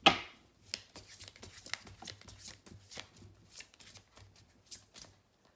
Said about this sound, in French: La carte de l'archange Michael